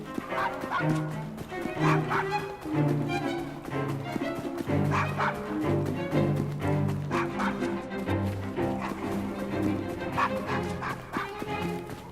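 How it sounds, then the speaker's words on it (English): Dog barking and yipping in Assassin's Creed Syndicate, short repeated barks and whimpers over a steady bed of game music, fairly close and moderately loud throughout. "Nice doggy."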